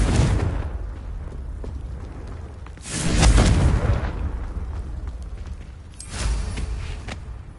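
Confringo explosive spell blasts in Hogwarts Legacy burst out in loud, booming explosions, one heavy blast near three seconds and another near six, each trailing off into rumbling decay.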